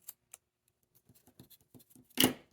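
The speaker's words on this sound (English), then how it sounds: "I would take and just cut them, cut the bottom edge off." Scissors snip through the bottom edge of a paper scrapbook layout: a couple of sharp isolated clicks, then a run of small crisp cuts ending in a louder close snip and crunch.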